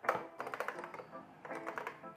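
Fingers type on the keyboard of a 41-year-old 1984 Macintosh, two quick bursts of close, tactile clacking keystrokes separated by a short pause, fairly quiet.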